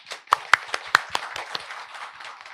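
A handful of separate, sharp hand claps from the audience at a presentation event of Incheon social welfare centers, spaced irregularly and thinning out toward the end.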